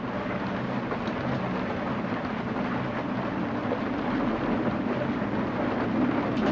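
Thunder from a lightning storm rolls over a moored sailboat on the coast between Calais and Dunkirk, a steady loud rumble that holds for several seconds and drowns out everything else.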